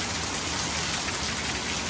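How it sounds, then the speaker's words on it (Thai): Steady, dense rain pours down, a continuous hiss of drops hitting surfaces with no gaps. "ฝนตกชุ่มฉ่ำเด้อพี่น้อง"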